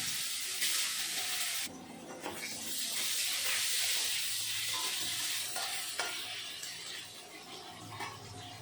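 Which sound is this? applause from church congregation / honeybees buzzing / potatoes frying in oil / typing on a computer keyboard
potatoes frying in oil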